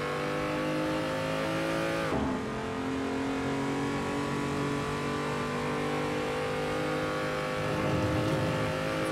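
BMW M235i race car lapping the Nürburgring, its engine droning loud and steady from on board, with a sharp pitch drop and a brief lift around a turn before the revs climb again along the straight.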